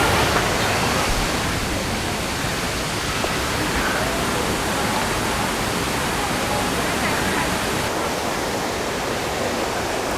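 Phlio waterfall in the Sabap mountains, where two streams pour down and join in the middle, gives a steady, dense roar of rushing water, close and unbroken throughout.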